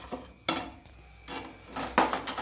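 Coriander seeds roasting in a pan for vangi bath, with a few distinct scraping stir strokes over a faint sizzle, spaced irregularly and close by.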